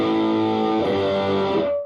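Electric guitar played through a Boss DS-1 distortion pedal, a sustained chord ringing with a fuzzy, gritty edge, then shifting to another held chord that decays over about two seconds, loud and alone.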